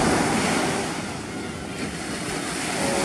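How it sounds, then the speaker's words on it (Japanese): Surf breaks near the middle of a beach break with closeout-style waves, giving a steady broad rush of whitewater with wind noise and a gentle swell in loudness, heard with no talk. "ミドル付近ダンパ気味ですけど波がブレイクしてますね。"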